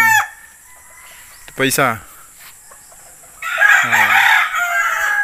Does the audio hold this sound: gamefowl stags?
yes